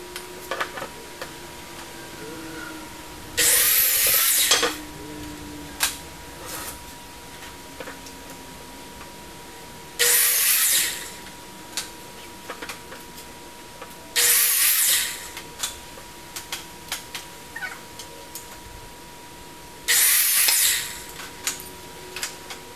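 Saw cutting across a 2x4 while making troughs, four separate short bursts of harsh rasping spaced several seconds apart, with quiet workshop noise and small knocks in between.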